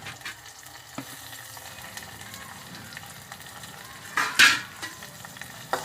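Chopped tomato sizzles and is stirred in a hot pan while cooking a simple varan dal, a steady close frying hiss with a few louder scraping stir bursts near the end, no talking.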